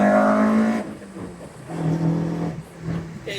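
The engine-swapped 1.6 of a 90s hot hatch revs hard, climbing to a high rasping note, then drops back and blips again in a second, shorter burst, loud and close.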